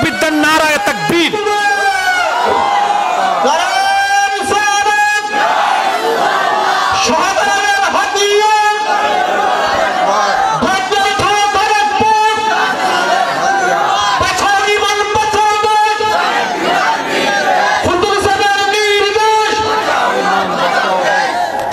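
A large crowd at a Bangla waz religious gathering chants the takbir, "Allahu Akbar," in loud, rhythmic unison. The chant rises in repeated bursts that fill the space, with a lead voice calling between the crowd's roars.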